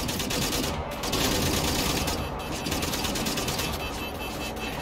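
Rapid sustained firing of a laser gun in Wolfenstein The New Order, a loud dense stream of quick rattling shots with brief gaps, continuing steadily throughout.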